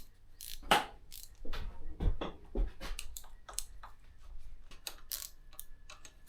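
A ratchet wrench loosens a nut on an SZC Base suspension fork of a Kovi Lite 300 (2024) dirt bike, giving irregular close clicks and metallic clunks in a workshop.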